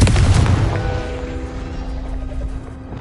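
A Confringo explosive spell cast in Hogwarts Legacy detonates in one loud, close blast, its heavy boom fading into a sustained ringing hum and low rumble over a few seconds.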